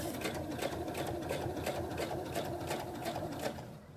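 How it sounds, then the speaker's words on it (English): A sewing machine stitching slowly through several layers of a fabric mask, with a steady, even needle rhythm running quietly on its own for a few seconds. "So I'm still sewing slowly, and we're gonna power through all of those layers."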